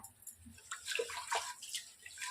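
Ration rice is washed in water by hand, with soft splashing and sloshing of water in short bursts, fairly faint and close, with no talk.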